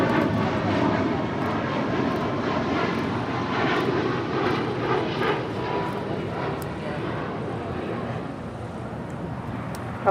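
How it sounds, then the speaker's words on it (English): United Airlines Boeing 737-900ER jet taking off at Los Angeles airport, a loud broad engine roar that holds steady and slowly eases over ten seconds, with wind noise and voices talking over it. "United Airlines Flight 2146 heading to Denver, Colorado, a 737-900ER."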